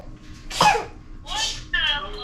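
A child gives a few exaggerated fake coughs, three short harsh bursts spaced apart, close and fairly loud indoors.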